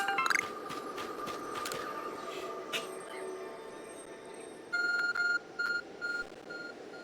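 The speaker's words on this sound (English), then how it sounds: "Your arc phone is beeping." An Arc Phone in the game Pokémon Legends: Arceus gives a series of short, evenly spaced electronic beeps, loud and close, following earlier soft chimes and game sounds.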